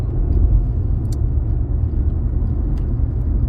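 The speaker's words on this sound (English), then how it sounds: "As you can hear, I'm in my car." Steady low rumble of a car interior while driving, a continuous engine and road hum with a couple of faint clicks.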